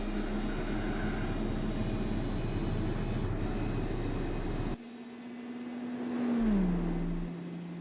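A Honda City Turbo II races with nitrous in the Gran Turismo 4 video game, its engine droning steadily at high revs, then cutting to a quieter tone that rises and falls as the car shifts, with no voices.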